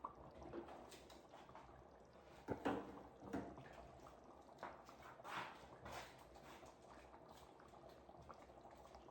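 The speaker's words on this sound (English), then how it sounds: "So I increased my fire to allow it to boil." Chicken stew sauce boils in a pot over a raised flame, a soft bubbling and popping with irregular louder gurgles, close and quiet, without speech.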